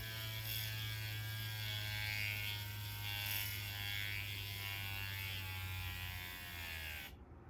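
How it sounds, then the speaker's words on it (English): A cordless drill boring into a toy car whirs continuously with a steady high-pitched motor whine, then cuts off abruptly at the end. "I'm gonna drill a hole directly back into this license plate."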